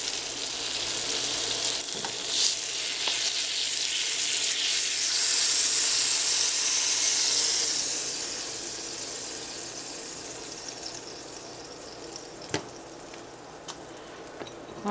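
An English muffin seasoned with Old Bay sizzles and fries steadily in a pan, a continuous hiss that swells loudest midway and then eases off, with a few faint clicks near the end.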